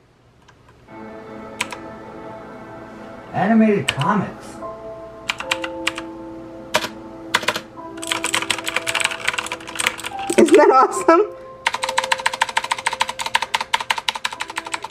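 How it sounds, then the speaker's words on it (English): A gaming keyboard is pressed in scattered clicks that build into rapid, rattling typing toward the end, close and crisp, while a voice talks over parts of it alongside bright electronic tones. "Here's my new keyboard. Watch what happens when I press it."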